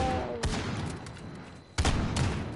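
Gunfire in Call of Duty: Modern Warfare during a tournament match, with two loud bursts of shots, one early and one heavier near the end, over a steady din of game sound.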